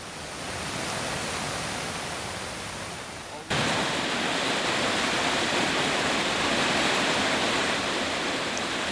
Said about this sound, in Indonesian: Banjir akibat luapan Sungai Cibuntu setelah beberapa jam wilayah Sukabumi turun hujan lebat. Aliran air yang tiba-tiba menerjang membuat warga panik